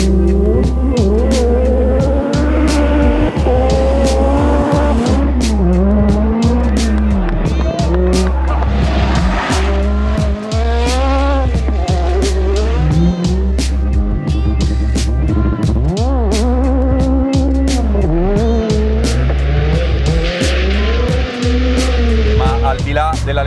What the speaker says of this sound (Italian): come va su strada una 205 super rarissima T16?